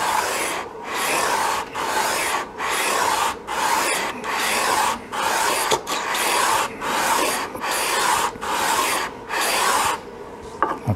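Sandpaper rasps back and forth over a wooden fretboard for a short-scale bass, the steady scratchy strokes loud and close in an even rhythm of about a dozen passes, with no talking.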